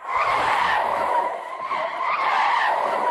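Car swerving to avoid an animal and skidding off the road, a loud, sustained scraping tire screech that surges and dips over about three seconds with no talking.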